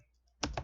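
Keys on a computer keyboard tapped as code is typed, a short quick run of three clicks after near-silence, heard close and alone.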